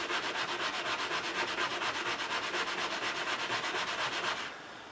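Scotch-Brite pad scrubbing stubborn gunk off a part of a 1987 Honda CR250 motorcycle, a loud close rhythmic rasping of rapid back-and-forth strokes that stops just before the end.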